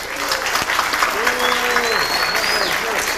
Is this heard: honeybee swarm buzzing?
no